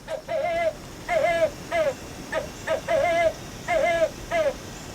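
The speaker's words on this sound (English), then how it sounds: "it is a realistic owl sound" A series of wavering, hooting owl calls from a solar owl decoy bird deterrent repeats in short bursts with brief pauses, moderately loud with a slightly artificial, playback quality.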